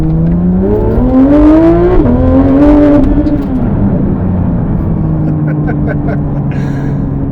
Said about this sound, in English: just that little bit of an aggressive pop on the up change and down change like this one does